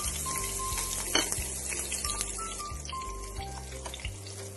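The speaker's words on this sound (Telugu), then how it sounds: "ముందుగా ఇందులో 1 టీ స్పూన్ ఆయిల్ వేసుకొని పచ్చిమిర్చి వేసుకొని" Green chillies frying in a teaspoon of oil in a pan while making rava pulihora, a steady close sizzle with periodic low rumbling hum underneath and a brief sharper clatter partway through.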